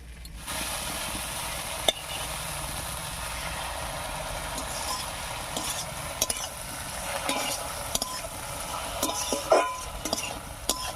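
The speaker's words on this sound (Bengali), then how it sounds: "মশলাটা দিয়ে খুব ভালো করে মিশিয়ে নিয়েছি এবার একটু কষিয়ে দিচ্ছি" Taro stolons (kochur loti) mixed with spice paste fry and are stirred in a pan, a continuous sizzle broken by scattered utensil scrapes and taps against the pan, heard close with no voices.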